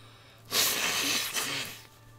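A single loud, close sneeze bursts straight into a microphone, followed by a brief breathy tail.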